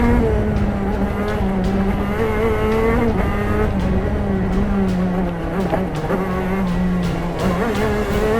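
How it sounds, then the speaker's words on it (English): A racing kart engine at Daytona screams steadily through a flying lap, a loud continuous buzzing drone whose pitch rises and dips slightly with throttle through the corners, with no talking. "The kart seemed to be behaving, and I hadn't noticed any problems with the engine so far."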